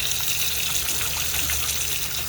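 Tap water runs steadily over cooked lasagna noodles, a continuous close gushing splash that stays even throughout, with no talking.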